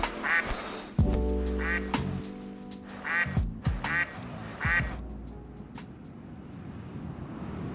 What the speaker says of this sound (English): In the water, the ducks are engaging in courtship.